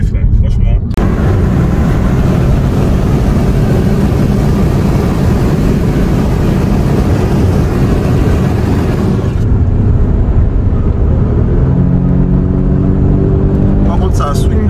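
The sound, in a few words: Audi car driving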